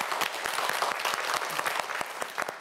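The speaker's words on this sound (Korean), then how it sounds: "박성준 학생에게도 박수 한번 보내주세요" A studio audience on a quiz show applauds a student contestant, a lively burst of many hands clapping with sharp individual claps standing out, close and continuous with no speech.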